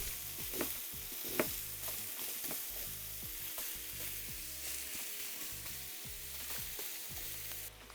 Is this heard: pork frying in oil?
yes